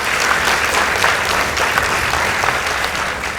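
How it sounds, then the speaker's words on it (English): A school debate audience applauds the winning secondary school team, a dense, continuous wash of clapping from a crowded hall, steady and loud throughout without talking. "A round of applause for them."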